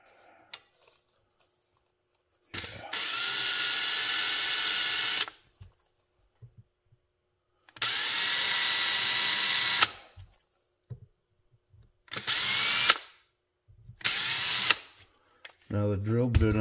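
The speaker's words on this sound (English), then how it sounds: "So we'll go ahead and drill those and get that taken care of." A power drill whines in four separate runs, two long and two shorter, with quiet pauses between them, drilling tuner holes in a guitar headstock.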